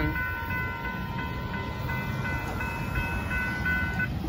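A northbound Union Pacific gravel train rolls past at a street crossing in Buda, Texas, its steady rumble and clatter continuous and fairly close, with faint whistle-like tones riding over the noise.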